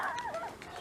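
A dog gives a short, thin whimpering yip outdoors at a farm near a hayfield, a brief strained vocal sound rather than a full bark, alone and at moderate distance.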